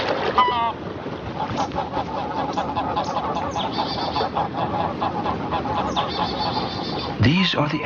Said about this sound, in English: flights of gray-lag geese announce the coming cold